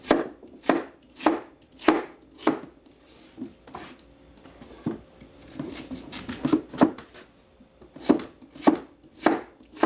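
A knife chops vegetables on a cutting board to prepare them for salting and pickling, giving a steady run of crisp, close thuds in bursts with brief pauses, and no voices.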